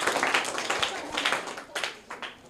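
Clapping from a group of people for a correct answer at a quiz, brisk and overlapping at moderate loudness, with some voices mixed in underneath.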